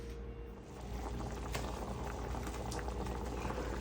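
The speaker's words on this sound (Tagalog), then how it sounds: "Ayan, kumukulo-kulo ang ating chicken with soup." Chicken soup with chicken cube at a steady rolling boil in a pot, a continuous close bubbling and gurgling that stays loud and unbroken throughout, with no talk over it.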